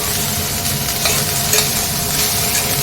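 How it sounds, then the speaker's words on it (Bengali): Banana stem fry (thor bhaja) cooking in a pan, a dense continuous sizzle with faint stirring, close and loud throughout, no talking. "এখানে থোড় ভাজাটা করছি"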